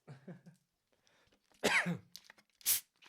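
A voice is heard briefly, then a sharp, close cough breaks out, followed a moment later by a second short, harsh cough.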